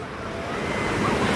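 Sea waves wash steadily onto an open beach at Pundakit, a continuous close surf roar with some wind buffeting the microphone and no talking.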